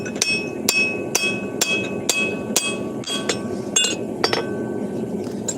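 A hammer strikes a hot forged hammer head during final drifting, making a steady series of about a dozen sharp, ringing metallic blows roughly half a second apart, close and loud.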